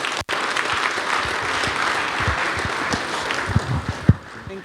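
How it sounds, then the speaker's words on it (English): A formal gathering's audience gives a round of applause after a speech, steady broadband clapping that carries on for several seconds with a few louder claps near the end. "Once more, another round of applause for His Excellency, former Head of State, Ge"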